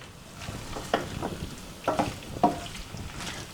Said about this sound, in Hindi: अब मैं इसको 2 मिनट के लिए बिल्कुल सिम गैस पर पकने के लिए छोड़ दूंगी।